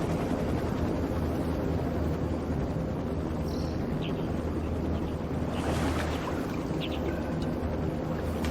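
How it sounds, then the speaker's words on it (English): Helicopter in the Ghost Recon Wildlands video game, a steady broadband rotor and engine rumble that holds constant throughout, with no speech over it. "Down, get down, chopper."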